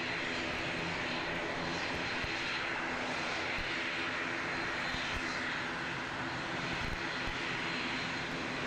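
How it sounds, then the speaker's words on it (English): ATR turboprop airliner departing Christchurch Airport, New Zealand, its steady engine roar sustained and fairly loud throughout, with broad rushing noise and faint low propeller hum and no talk. "Got an ATR departing as well."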